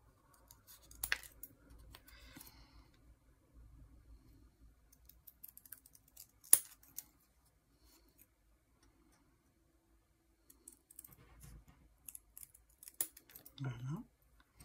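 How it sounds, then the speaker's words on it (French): Hairdressing scissors snip through paper in a quiet craft session, sparse crisp cuts in short bursts separated by silence, close to the ear, with faint handling noises between. "j'ai envie de couper avec le ciseau, ciseau de coiffeur"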